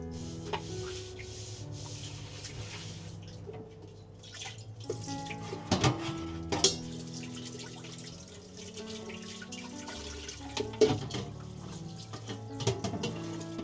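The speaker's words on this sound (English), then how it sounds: "take your soft sponge and gently scrub in small circular motions" Soft sponge gently scrubbing a greasy air fryer part in small circular motions, repeated soft rubbing and squishing strokes close up, with faint running water and occasional wet clicks.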